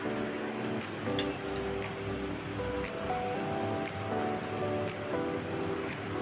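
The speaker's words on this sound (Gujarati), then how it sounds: "બહુ પાણી ઉકળે પછી આપણે એમાં કળી પાડવાની છે" Water boils in a pot as gram-flour batter drops in for Kathiyawadi khati kadi, a steady rushing, bubbling noise with a few faint ticks and splashes.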